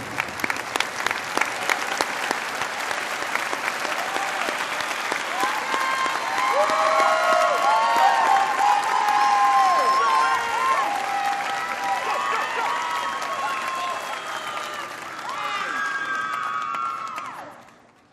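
A large audience applauds and cheers for 2022 advanced degree graduates at a Parks College precommencement ceremony, a sustained dense roar of clapping with shouts and whoops rising through the middle before tapering off at the end.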